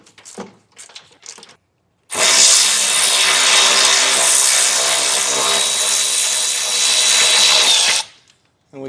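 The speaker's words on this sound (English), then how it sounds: "we're just going to take a 15mm deep well socket and loosen up the nuts on both sides" A power tool driving a 15mm deep well socket runs steadily for about six seconds, loosening nuts on a 2024 Ford truck, close and loud after a few quiet clicks and handling noises, with a faint whine near the end.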